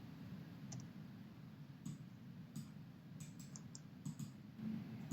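Quiet, steady typing on a computer keyboard, with soft irregular key clicks running continuously against a low hum of room noise.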